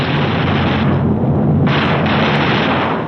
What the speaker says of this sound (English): Each gunner flexes his sights and tries the coordinated fire controls with a few short bursts to clear the gun.